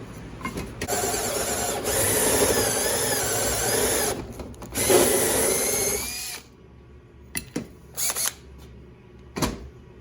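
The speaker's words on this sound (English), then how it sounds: "And we'll drill a hole right there and then straighten it out on the sides." A drill boring a hole in metal on a 1996 Ford F-250 runs in loud, high-pitched bursts up close, pausing briefly between runs, then gives way to a few short, sharp clunks and scrapes.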